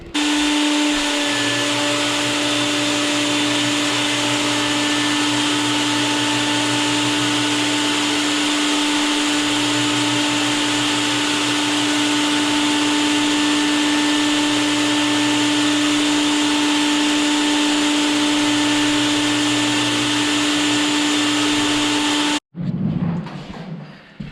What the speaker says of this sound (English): So I'm gonna hook that up to the vacuum and start buffing this room out.